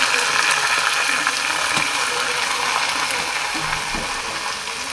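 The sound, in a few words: rice frying in a pan with browned onions for khichuri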